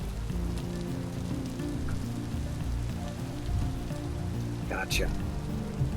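Steady rainfall in the survival video game Vintage Story, a constant patter and hiss of drops across the scene, with game sound effects and a brief spoken word over the rain.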